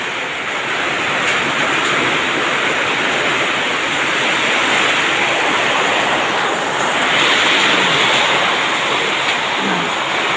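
Storm wind roaring steadily over a hill near a mosque, a loud unbroken rushing hiss with gusts swelling toward the end and occasional mic buffeting.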